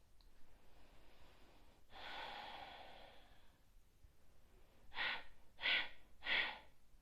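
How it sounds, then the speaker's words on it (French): Three short, forceful exhalations pushed out through the nose in yoga breathing, evenly spaced and close, coming after a longer breath out with no talking. "je vous fais juste une petite démonstration ici avec 3 respirations"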